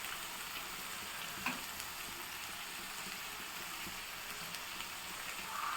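Chicken fry sizzles quietly in a pan, a soft steady hiss with a faint clink from the cookware partway through.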